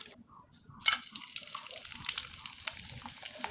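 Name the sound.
frying sun-dried rice flour chips in oil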